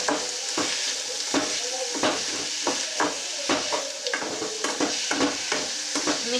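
A mixture frying on a low flame is stirred repeatedly in a pan, with rhythmic scraping strokes every half second or so over a soft, continuous sizzle.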